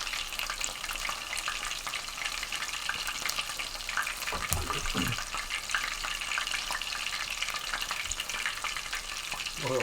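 Cutlets fry in hot oil in a pan with a steady, dense sizzle and crackle throughout, close and loud, with a few soft clinks partway through.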